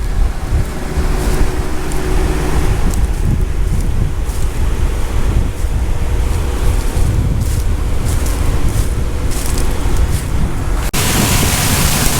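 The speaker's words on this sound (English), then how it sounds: "I do apologize for the wind. It's gonna be a windy one today," Strong wind buffets the microphone in an Illinois cornfield during a corn harvest, a loud, unbroken low rumble with gusty fluctuations throughout and no voices.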